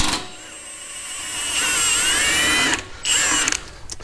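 A power tool with an 18mm socket whirs steadily as it backs out a front bumper bolt on a Hummer H3, running in one long burst, pausing briefly, then spinning up again, close and fairly loud with no talk.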